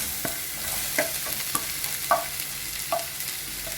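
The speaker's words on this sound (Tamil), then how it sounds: "இப்போ இதில் வெங்காயம் போட்டுக்கலாம்." Onions frying in oil in a pan, added after cumin and asafoetida for an eggplant chutney, giving a steady soft sizzle with a few sharp spoon-stirring clicks scattered through.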